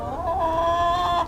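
Hens in a backyard flock clucking close by, a steady drawn-out run of calls lasting about a second with no talk over it.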